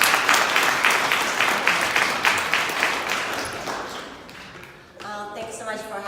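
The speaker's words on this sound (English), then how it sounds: "So please give a big round of applause to Ms." An audience applauds a speaker about to talk on blockchain at a University of Maryland event, with loud dense clapping that gradually thins and gives way to a few faint voices and room noise at the end.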